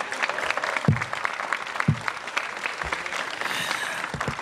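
Loud crowd applause fills a school ribbon-cutting ceremony, with close, energetic clapping throughout and a few low thumps breaking through the steady patter.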